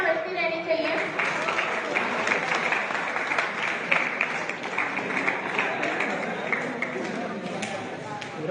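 Sustained audience applause fills a convocation ceremony at Chandra ITI, an industrial training institute in Lucknow, steady and dense for the whole stretch, with a voice speaking over the clapping.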